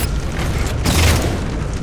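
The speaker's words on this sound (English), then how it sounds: "Target those phantoms for the railgun to shoot down." Railgun fire bringing down Phantom dropships in the Halo 4 video game: a loud, sustained boom with a sharp surge midway, filling the clip alone with no voices.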